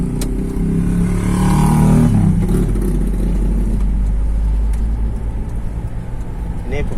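A bus passes along a road near Sukoharjo, a loud low engine rumble and roadway roar swelling around two seconds in, then settling into steady traffic noise, with some speech mixed in.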